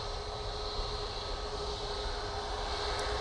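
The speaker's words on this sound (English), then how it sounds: "Off to Prague we go with this 737-800." A Boeing 737-800 jet departs from Manchester Airport, heard as a faint, steady engine drone with a constant whine from start to finish.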